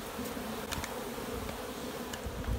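Honey bees buzz in an opened hive box, a dense close hum with a few louder passes of single bees near the listener.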